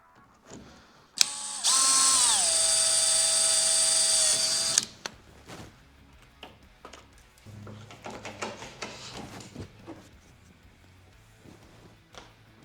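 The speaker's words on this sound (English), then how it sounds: "I can drill my second hole." A power drill bores a hole in a Vibe Shearwater 125 kayak while an anchor trolley is installed, a loud steady whine lasting about three seconds, followed by quieter handling clicks and rustling.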